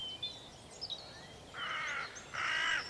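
Hooded crows give two harsh, raspy caws at a distance, with fainter calls and chirps around them in an open outdoor setting.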